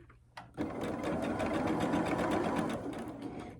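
Sewing machine stitching across a thick double seam of a quilt block, starting on a leader: a steady, close, continuous run of rapid needle chatter after a brief start, with no talking.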